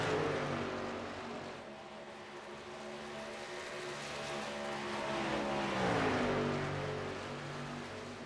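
NASCAR Truck Series race trucks roar around Chicagoland Speedway, their engine drone rising and falling steadily, with one truck passing close enough for a clear pitch drop in the middle.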